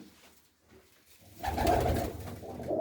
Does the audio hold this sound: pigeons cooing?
yes